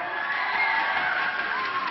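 A television studio audience at a Vietnamese couples singing competition cheers and whoops loudly and continuously for a performing pair, a dense, bright crowd roar with no clear speech.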